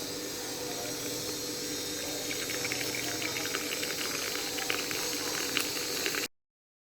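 Boiled ginger cardamom masala tea being strained, a steady liquid hiss and splashing pour that runs evenly for about six seconds and then stops abruptly, with no talking.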